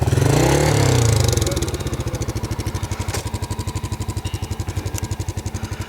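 A KTM motorcycle engine revving hard while riding, starting with a loud rising roar that settles into a fast, steady pulsing engine note, close and continuous with no talk.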